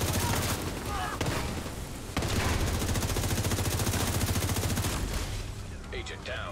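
Rapid gunfire from The Division 2 video game rattles continuously in dense bursts, loud and close, with a voice talking faintly underneath.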